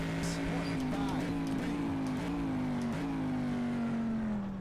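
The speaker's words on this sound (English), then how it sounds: "I love the sound of this car, man." A race car in rFactor 2 at Daytona, an IMSA machine, drones steadily close up with a sustained engine tone that dips and recovers across gear changes, under occasional commentary.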